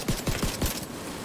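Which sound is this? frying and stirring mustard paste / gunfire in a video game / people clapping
gunfire in a video game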